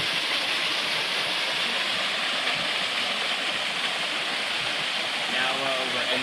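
Cascade Falls waterfall on a Georgia camping trip, a steady, full rush of falling water that fills the whole clip evenly, close and continuous, with no speech heard.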